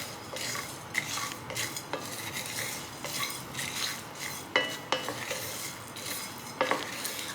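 Biryani masala spices are dry-roasted in a pan, with a steady scraping stir and repeated clinks of a metal spoon against the pan, close and fairly quiet, with no talking.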